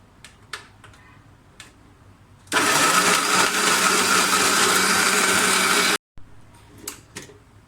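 A blender grinds sardai drink ingredients with water in one loud, continuous whir lasting about three and a half seconds, stopping abruptly, with quieter clicks and handling noises before and after.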